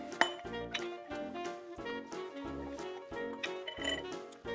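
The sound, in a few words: muddling mint, lime juice and syrup in a glass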